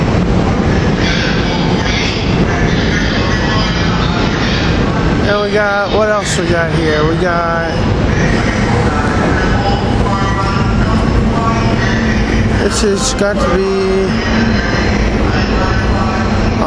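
SEPTA commuter rail trains rumble through 30th Street station during rush hour, a steady loud roar of wheels and cars with brief wheel squeals and horn-like tones, while someone talks over it nearby.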